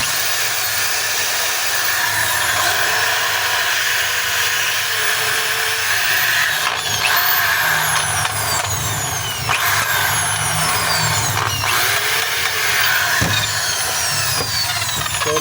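A worn DeWalt DWD024 half-inch hammer drill with a damaged chuck and wobbly spindle runs loud and steady throughout, a constant motor whine with a rough hammering rattle and faint catching hitches.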